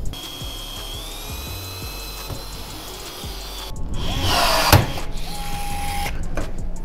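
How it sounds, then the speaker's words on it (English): A power drill whirs steadily, then bites harder into a jon boat's metal hull with a louder grinding burst before easing off, drilling a rivet hole, fairly close and without talk. "So I need to drill that out and make sure it doesn't move."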